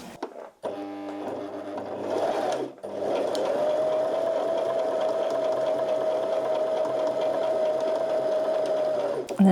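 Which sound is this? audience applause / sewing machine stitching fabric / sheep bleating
sewing machine stitching fabric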